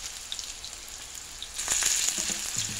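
Lentil and small shrimp fritters dropped into hot oil, a soft hiss that rises to a louder bubbling sizzle over a couple of seconds, with a faint clink near the end.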